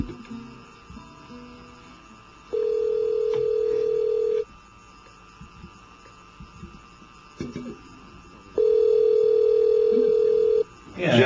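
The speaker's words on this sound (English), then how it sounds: "I'm dialing the number of Mr." Telephone number being dialed, two long steady tones over a constant mains hum with faint handset clicks in between.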